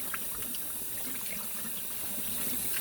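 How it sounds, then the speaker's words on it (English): Tap water runs steadily over cooked spaghetti in a sink, a continuous splashing trickle with no talk. "So now what I do is I just keep running the water in occasionally."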